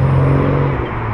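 A Toyota Supra, the original GT, passes at a car meet with a loud, steady engine drone and low hum that fades slightly toward the end of the short moment, with no talk over it.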